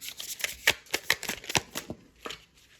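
Tarot cards being shuffled and drawn by hand, a run of crisp riffling flicks and slaps in quick irregular bursts, close and fairly quiet with no talking.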